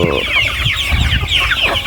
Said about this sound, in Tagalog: Ito sila guys, ng ating mga alaga, nating mga manok guys.